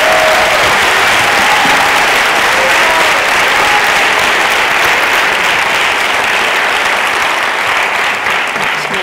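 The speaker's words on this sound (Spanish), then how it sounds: "Venga, otro aplauso más, de verdad." Sustained applause from a large audience at a science awards gala, loud and dense clapping filling the whole stretch without a break.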